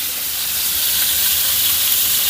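Stuffed bitter melon pan-frying with minced pork and shrimp filling gives a loud, even, continuous sizzling hiss, close and steady with no talk.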